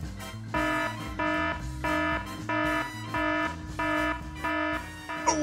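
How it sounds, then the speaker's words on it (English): An electronic game-show timer buzzer sounds in repeated pulsing bursts, loud and regular, about eight blasts with short gaps between them. "Oh, the buzzer went off."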